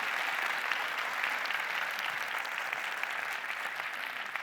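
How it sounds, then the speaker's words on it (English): An audience at a first-time home buyers' seminar applauds the experts: a steady, even wash of clapping throughout, at moderate distance with no speech over it. "please help me in giving a round of applause to our experts"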